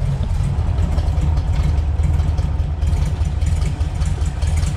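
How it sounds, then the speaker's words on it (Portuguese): Volkswagen Beetle (Fusca) engine idling just after a return from the mechanic, with a carburetor fault, a steady, loud low rumble running throughout without any talk. "vamos ver o motor funcionando, que eu vou mostrar pra vocês"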